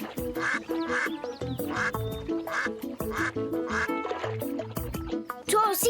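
A cartoon duck quacks repeatedly over a busy musical backing, the calls steady and prominent, in a children's animated show about a boy who becomes a duck for a day.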